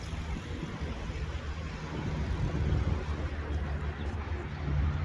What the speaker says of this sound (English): bunch of traffic just passed